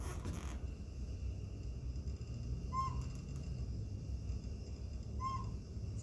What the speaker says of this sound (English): a pygmy owl has a whistled hoot